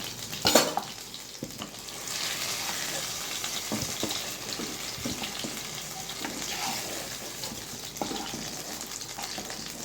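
Potato pieces frying in oil in a pan: a continuous soft sizzle and crackle with occasional stirring clatter and a sharp knock at the start, close but fairly quiet, with no voices.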